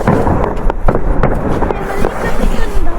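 Fireworks go off outdoors in snow in Greenland, a series of loud crackling bangs and pops in quick irregular bursts, close by, while people talk in the background.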